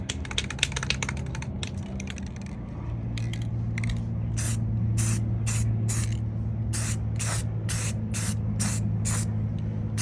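A spray paint can hisses in a rapid series of short bursts while painting an arched cabinet, close and loud, with a faint hum underneath.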